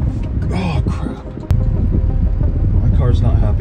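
A car engine strains and rumbles steadily while climbing a mountain road, with a person exclaiming in alarm over it throughout.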